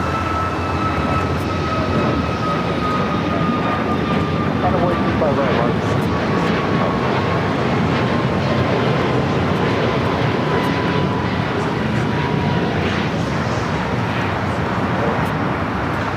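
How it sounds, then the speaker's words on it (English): A Boeing 757-200 arriving from Denver at LAX produces a steady engine roar with a faint high whine that slowly drifts downward, while people talk over it for most of the clip. "the 757 coming in from Denver, flight 1093"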